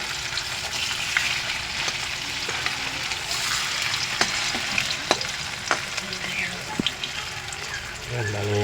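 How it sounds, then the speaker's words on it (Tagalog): Tofu and eggplant frying in a pan make a steady moderate sizzle with scattered pops and crackles and occasional stirring clicks. "magluluto tayo ng pritong tokwa at pritong talong"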